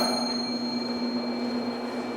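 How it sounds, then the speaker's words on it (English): An old church bell, recently found in a closet at Wells United Methodist Church, rings with one steady, sustained metallic tone and bright overtones that hang evenly, with no talking over it. "This bell, we discovered actually like Wednesday last week."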